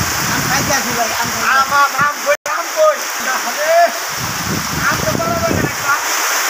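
Heavy rain pours steadily onto a rooftop in a broad, constant wash, with people talking loudly over it throughout.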